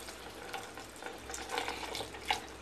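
Water poured into a cooking pot holding soybean nuggets in a home kitchen, a soft running splash with a few brighter sloshing spikes near the end, fairly quiet and without talk.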